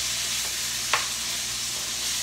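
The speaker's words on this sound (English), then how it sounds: "So my hamburger, my beef is cooked up really nice." Cooked ground beef sizzles gently in a skillet, a low steady frying hiss with one brief scrape of stirring partway through, and no voices.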